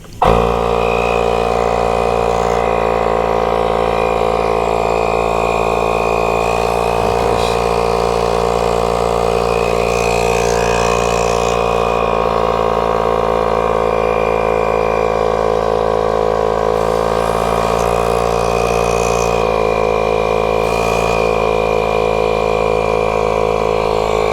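A portable tire inflator runs steadily, pumping air into a tire with a constant mechanical drone and hum that lasts the whole stretch, close by and without talking.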